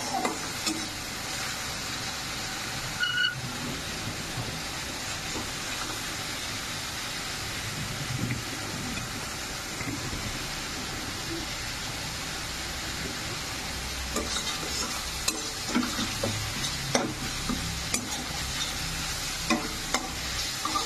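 Masala with turmeric and Kashmiri chili powder fries in oil with a dense, continuous sizzle, while a spoon scrapes and stirs repeatedly, clattering more often toward the end.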